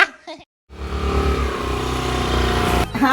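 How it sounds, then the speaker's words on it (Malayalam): After a brief voice and a short silence, a scooter engine hums in and grows steadily louder as it approaches, a mid-pitched motor drone that ends with a brief burst of a voice. "ഇക്കാന്റെ സ്കൂട്ടി വരുന്നുണ്ടല്ലോ"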